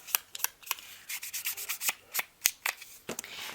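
An ink applicator being rubbed around the edges of a paper journal card, a close series of short scratchy dabbing strokes in an uneven rhythm with no one speaking.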